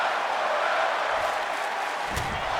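Sustained cheering from a wrestling crowd at an SCW Showdown event, a dense, even roar of voices and applause lasting throughout, with a brief sharper burst of clapping near the end.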